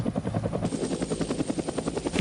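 A Marine AH-1 Sea Cobra attack helicopter thrums overhead, its rotor blades beating in a fast, steady rhythmic chop at moderate distance, with no voices.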